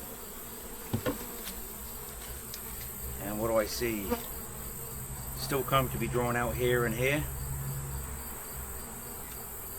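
Honey bees buzz steadily throughout an open hive super with comb still being drawn, a dense close hum beneath a voice talking intermittently.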